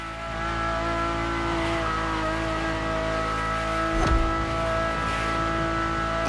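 A Ferrari supercar engine in the racing game The Crew Motorfest roars steadily and loud from inside the cabin, with a brief sharper surge near the end.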